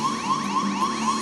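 An Apollo onboard computer alarm plays in a Kennedy Space Center exhibit, a loud repeating warbling tone sweeping up in regular pulses about every quarter second, close and uninterrupted with no voices.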